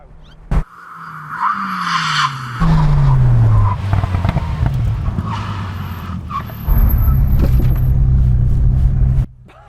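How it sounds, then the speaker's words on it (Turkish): A Ferrari F40 and a Bugatti EB110 brake hard in an emergency stop, loud engine roar dropping in pitch under sustained tire skid and squeal, close and powerful, ending abruptly. "Konilere ulaştığımızda tam acil bir duruş yapacağız ve hangi arabanın en kısa mesafede olduğunu göreceğiz."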